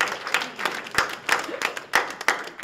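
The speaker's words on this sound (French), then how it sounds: "elle peut applaudir" Scattered clapping from a small gathering at a Creole community event in Salazie, with a handful of distinct, uneven claps spread over a couple of seconds and a few murmuring voices behind them.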